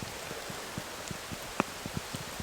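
Rain falling on a rainy morning in a Southern California woodland, a soft steady hiss with scattered close drips and taps of drops on leaves, quiet and continuous with no voices.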